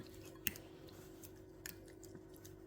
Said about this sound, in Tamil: நல்லா மேஷ் பண்ணுவோம்.